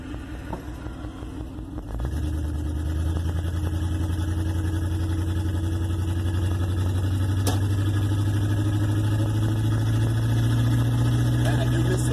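A 1958 Plymouth engine settling into a steady low drone after a downshift, heard from inside the car, close and continuous for several seconds, with no talk over it.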